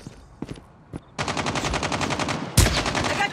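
Rapid automatic gunfire in a first-person shooter video game, with a few isolated shots followed by a sustained burst of fast, evenly spaced rounds and a louder close shot near the end.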